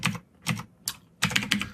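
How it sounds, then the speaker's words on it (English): Quick bursts of keystrokes on a computer keyboard as code is typed, three short clusters followed by a longer, denser run of clicks, close and clear with no voices. "let me just type in a really quick code example here"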